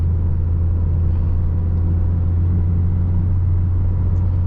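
A manual car's engine drones steadily at low pitch with a deep rumble, held at moderate revs just after a downshift on a rough road, loud and continuous without talk.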